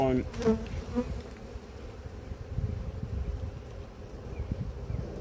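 A swarm of bees buzzes steadily and continuously, close by, with a soft rustle of wind underneath.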